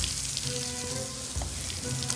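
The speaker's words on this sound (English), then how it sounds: "it does sound like a fryer's on somewhere" Deep fat fryer in the Golf With Your Friends video game, a continuous crackling sizzle with scattered pops held at steady volume throughout and nobody speaking over it.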